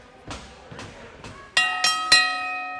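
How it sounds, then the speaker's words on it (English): A wrestling ring bell at a SoCal Pro Wrestling show in Vista is struck six times, three soft dull hits followed by three loud ringing clangs that hang in the air. "Ring that bell, buddy."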